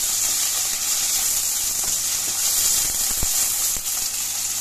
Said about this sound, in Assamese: এয়া মই আলুখিনি অলপ ভাজি ল'ম